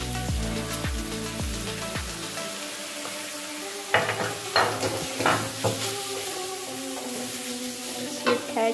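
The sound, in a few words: stir-frying beef with noodles, sizzling in a pan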